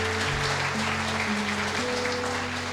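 A church congregation claps together in a broad, steady wash of applause, with sustained organ or keyboard tones sounding underneath.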